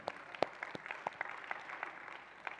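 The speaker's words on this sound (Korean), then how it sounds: "박수 한 번 더." A church youth group claps faintly in a worship service, sparse and uneven, with a few sharper individual claps over a soft scatter of hands.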